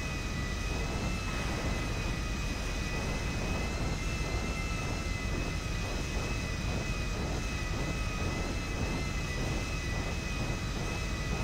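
In GTA V, an airliner rolls along the runway after touchdown, its jet engines giving a steady, loud, continuous whine and rumble with no voices over it.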